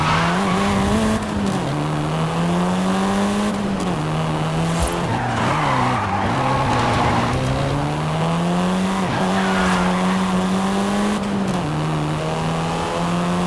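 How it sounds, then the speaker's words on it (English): A Volkswagen Golf R in Forza Horizon 5 drives with a loud, steady engine drone that rises and falls in pitch with the revs, while tires squeal and skid through the turns close by. "This version is the Volkswagen Golf R"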